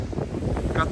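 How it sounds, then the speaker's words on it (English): Strong blizzard wind gusting at 40 to 70 mph on a road in an extreme winter storm, buffeting the microphone with a loud, continuous low roar that swells and dips with no one speaking. "Wind gusts are, I'd say they're averaging 40 to 50 miles per hour right now, up to 70."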